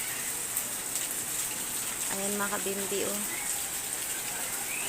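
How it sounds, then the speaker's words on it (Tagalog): Heavy typhoon rain pours steadily onto surfaces in a dense, constant hiss, with someone speaking briefly over it midway. "Ingat tayong lahat sa malakas na ulan na ito."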